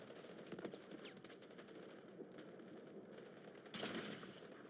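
Gunfire in the shooter game Delta Force comes as rapid, fairly quiet bursts of automatic shots over a steady background din, with a slightly louder flurry near the end.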